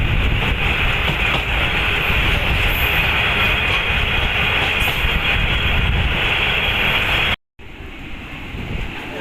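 A train in motion heard from inside a general-class coach on an Indian railway, with a loud steady rumble and a faint clatter of wheels that cuts out abruptly, then resumes more quietly.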